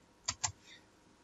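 Typing on a computer keyboard: two quick, crisp keystrokes close together, followed by a fainter click, in a quiet room.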